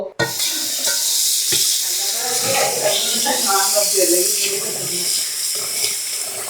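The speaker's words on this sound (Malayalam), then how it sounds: "നമ്മൾ ഇനി അരി കഴുകി കുതിർക്കാൻ വയ്ക്കണം" Rice is washed in water for Ambur biryani, giving a continuous close splashing and swishing wash that runs throughout, with voices talking over it.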